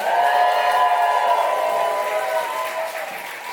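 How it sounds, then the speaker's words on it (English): Audience at a New York comedy night applauding and cheering for comedian Ellie Krimendahl, loud continuous clapping layered with sustained shouts and whistles, strong at the start and gradually fading over a few seconds. "Please make some noise if you want to hear more from Ellie Krimendahl."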